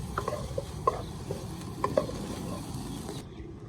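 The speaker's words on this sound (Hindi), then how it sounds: "काली मिर्च शामिल करने के बाद एक बार चम्मच चला देंगे और आंच को स्लो ही रखेंगे" A spoon stirring black pepper into egg pulao in a pan over a slow flame, with a continuous low sizzle, soft scraping strokes and a few light taps, close up and with no talking.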